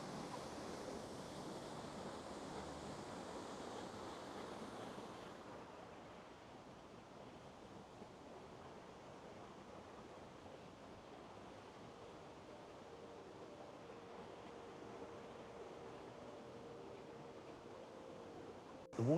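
A forest waterfall at Mount Field in Australia makes a steady, soft rushing of falling water that stays even and fairly faint throughout, with no voices.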